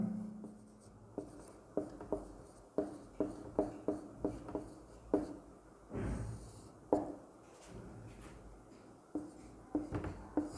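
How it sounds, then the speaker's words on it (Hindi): Hand-written Sanskrit examples during a lesson: a pen or chalk scratches and taps in short irregular strokes, repeated bursts close up with brief pauses between, no voice present. "अभी हम उदाहरण लिखेंगे"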